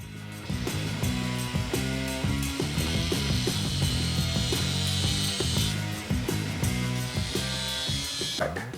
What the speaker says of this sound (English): then we'll jack it back up and get it in place and stick it on